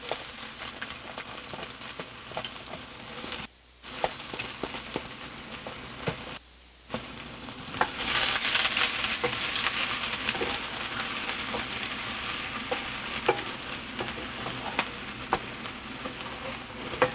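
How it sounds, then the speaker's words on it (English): Onions and garlic sautéing in a pan give a steady, bright sizzle that runs the whole time, with two brief dips near the start and a louder, hissier stretch after that, dotted with small clicks and pops. "always the order for sauteing: onions, garlic"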